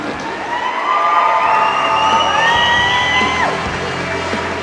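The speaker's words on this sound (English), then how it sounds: "A big round of applause, everybody," A finale-night audience cheers and whoops for the winner, a loud steady roar of crowd voices with yells and shrieks rising over light clapping throughout.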